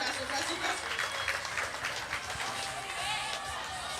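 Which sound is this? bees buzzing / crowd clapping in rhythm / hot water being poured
crowd clapping in rhythm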